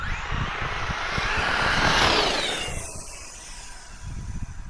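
A Traxxas X-Maxx RC car running on two 4-cell battery packs makes an acceleration pass, a loud hissing whir that swells as it speeds past, then fades away.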